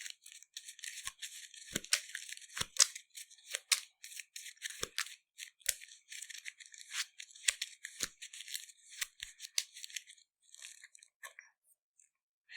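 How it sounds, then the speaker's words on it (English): A thin deck of Arkham Horror card-game cards is shuffled by hand, close and fairly quiet, giving a run of irregular crisp riffles and snaps with brief pauses between them. "So we're shuffling her very thin deck"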